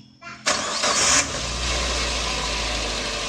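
A car with a faulty charging system is started: a short starter crank, then the engine catches with a rising roar and settles into a steady, close idle.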